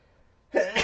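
A single sudden sneeze bursts out close and loud after near silence, breathy and broadband.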